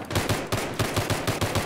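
A video game pistol fires about ten quick shots in a steady rapid rhythm, sharp and close, with nothing else audible.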